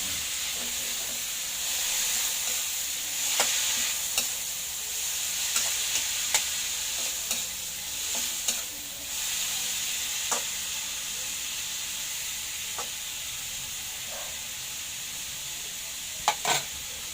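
Papaitan stirred in a hot pan, frying with a steady sizzle and hiss broken by repeated scrapes and clinks of the spoon against the pan.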